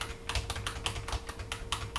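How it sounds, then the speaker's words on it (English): Rapid, steady typing on a computer keyboard during a networking lesson, with crisp, close keystrokes in a quick irregular rhythm and no talk. "I would type in some number"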